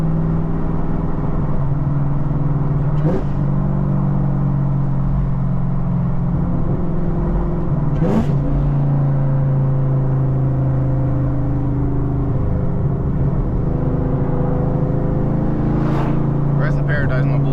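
Inside a manual Chevrolet Camaro ZL1 with a stage 3 cam, the engine drones steadily and loudly while driving, with a few brief sharp thumps, as someone talks over it.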